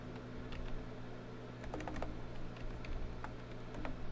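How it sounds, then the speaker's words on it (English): Fingers type on a computer keyboard, a quick uneven run of close, soft key clicks over a low steady hum. "So I'm going to type in management"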